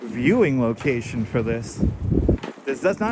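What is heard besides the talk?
No everyday noise stands out behind the speech.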